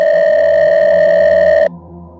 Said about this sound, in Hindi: पॉकेट में रखा उसका फ़ोन बज उठा।